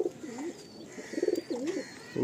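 Madrasi tournament pigeons coo close at hand in rolling, repeated calls with short pauses between them. Quiet room tone sits underneath, and there is no clear talk.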